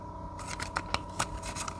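Tarot cards being handled and laid out, a quick series of crisp papery snaps and slides close by, five or six sharp flicks in under two seconds with no talk.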